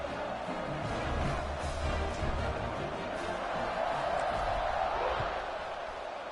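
A college football video game crowd roars steadily before a kickoff, a dense, sustained stadium noise with a commentator's voice running over it.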